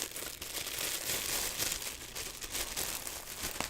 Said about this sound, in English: let me open this. Excuse the crinkling.